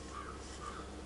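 Crows caw twice in the ZombiU video game, two short harsh calls spaced about half a second apart over a steady low background hum.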